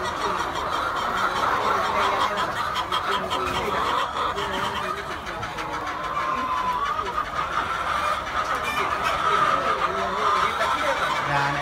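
Chickens cluck in a poultry farm house, a dense steady flock murmur at close range that runs the whole time, with a faint engine hum beneath and no talk.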